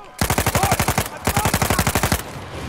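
Two long bursts of rapid automatic gunfire from the Uncharted 4 video game, each a loud, evenly paced stream of shots separated by a short pause.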